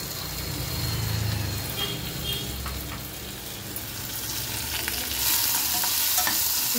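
Finely chopped tomato sizzling in hot oil in a pan while being stirred, with a steady frying hiss and scraping stir sounds throughout, growing brighter near the end.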